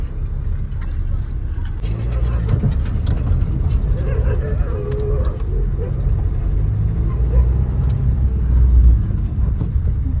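A car engine pulls steadily up a slope, a low continuous rumble with faint rattles, while voices talk over it inside the car.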